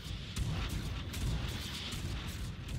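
Space battle weapons fire in the video game Stellaris: a dense, continuous barrage of rapid low booms and crackling shots, with torpedo barrages being shot down by point defense weapons, steady and loud throughout with no pause or voice.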